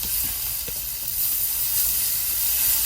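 Onion and mushroom sauté in a hot pan with a steady, fairly loud sizzle and hiss, crackling evenly the whole time with no talk over it.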